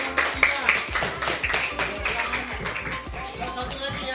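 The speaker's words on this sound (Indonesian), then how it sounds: "Oke, tepuk tangan dulu." Schoolchildren in a third-grade class clapping their hands, a quick, fairly rhythmic run of close claps with some voices chattering underneath.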